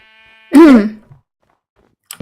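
A single short, wavering sheep bleat from the Minecraft video game, loud and close, heard alone with silence after it.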